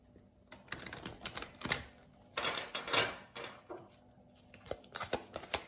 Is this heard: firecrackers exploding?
no